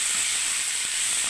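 Ground turmeric and Kashmiri red chili powder being stirred in a hot pan give off a steady, bright sizzle and hiss, close and continuous over a brief moment.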